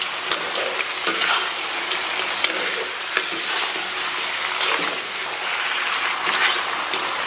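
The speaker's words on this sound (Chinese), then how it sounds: "然后把牛肉给它煸炒一下" Beef stir-fried in a pan over low heat sizzles steadily and loudly, with scraping stirs and spatters running throughout without pause.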